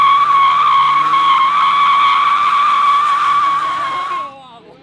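A radio-controlled Crown Victoria model car drives at speed, its tires letting out a loud, sustained high squeal for several seconds before cutting off abruptly near the end, close and dominating any background.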